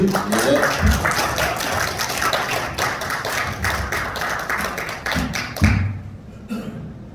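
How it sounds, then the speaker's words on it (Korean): Lecture audience at a Korean regional forum and awards ceremony claps to welcome a speaker, dense sustained applause close by that fades out near the end. "크게 박수로 환영을 하면서"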